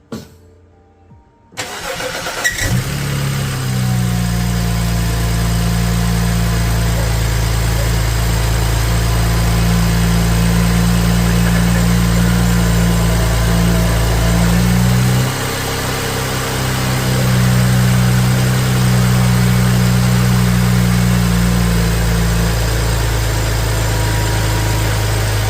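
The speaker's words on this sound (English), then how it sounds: "What I'm gonna do now is start the car" A 2008 BMW 335i E90 with the N54 engine cranks briefly, fires and settles into a steady, loud idle, the tone shifting slightly midway, with no talking.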